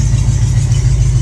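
An International Harvester 345 V8 engine runs steadily at full operating temperature while still burning residue off its manifolds, giving a loud, close, continuous low rumble with an even idle and no talking.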